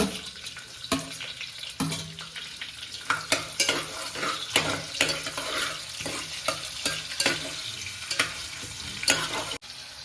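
Onion fries in oil with cinnamon and cardamom while a spoon stirs and scrapes the pan, a steady close sizzle broken by clinks and scrapes, no talking.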